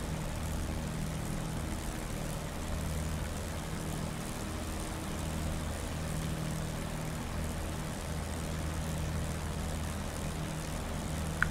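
Engines of P-51D Mustang fighters from DCS hold a steady, low, distant rumble while warming up on an airfield, an even drone with no change in pitch that runs the whole time.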